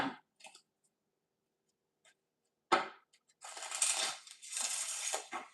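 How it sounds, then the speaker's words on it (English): Tarot cards are shuffled in a few soft riffles and slides, close and fairly quiet, separated by brief pauses and ending in a longer rustling burst. "We are shuffling."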